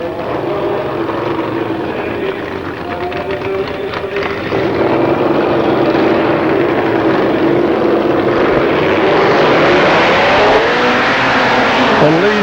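A Jaguar E-type charges down the Avon Park drag strip at a 1995 shootout, its loud, sustained engine roar swelling in volume and holding at full power for the whole run.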